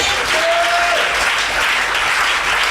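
A church congregation applauds and cheers loudly and continuously during a French-language worship service, a dense, steady wall of clapping that lasts from start to finish.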